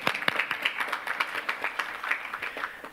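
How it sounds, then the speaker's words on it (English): Scattered audience applause at a school board meeting, a modest crowd clapping in a brisk uneven patter for a few seconds at moderate volume in a meeting room. "We can clap again."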